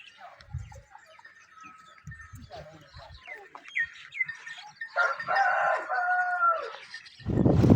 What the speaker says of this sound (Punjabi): ਮੁਰਗਾ ਜਿਹੜਾ ਨਾ ਆਵਾਜ਼ਾਂ ਲਗਾ ਰਿਹਾ ਹਾਂ